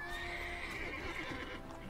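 A horse in the video game The Witcher 3 gives a clear, fairly close whinny over a soft clatter of hooves, with no one talking.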